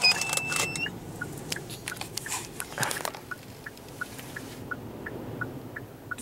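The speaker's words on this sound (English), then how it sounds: "I'll let you guys listen to the car vibrating." A parked car rocks and rattles in 70 mph wind gusts in Palm Desert, California, heard from inside: steady low rumbling buffeting with faint rhythmic clicking, moderately loud throughout.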